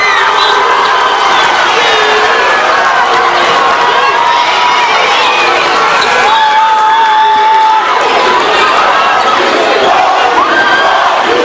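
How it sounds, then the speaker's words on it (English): Crowd at a boys' high school basketball game, Northview vs Dothan, roars loudly and continuously after a fast-break slam dunk, with shouts and whoops throughout and ball bounces beneath the din. "Boy, this crowd is making a lot of noise, Bobby."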